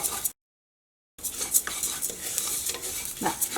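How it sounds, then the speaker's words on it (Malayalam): Broken wheat sizzles and crackles as it roasts in hot ghee, with occasional stirring scrapes, broken by a short silent gap, close and moderately loud. "അങ്ങനെ ചെറുതായിട്ട് ഒരു മുരിയണ സൗണ്ട് കേൾക്കുന്നുണ്ട്."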